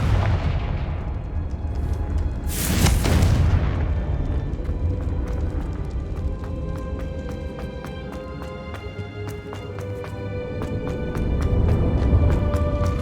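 A Confringo spell explosion in the video game Hogwarts Legacy: a loud burst with a crackling blast near the start, then a sustained rumbling roar with scattered pops, over background game ambience.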